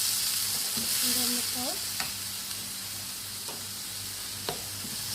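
Chicken sizzles steadily as it fries in a pan, a continuous soft crackle with a few brief utensil clicks, while a voice speaks briefly over it.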